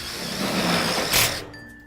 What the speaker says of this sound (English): Drill that through.